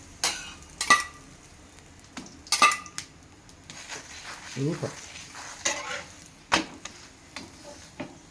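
Chapati roasting with oil on a hot pan: a soft, intermittent sizzle broken by several sharp clanks and scrapes of a utensil against the pan, with a brief murmur of voice partway through.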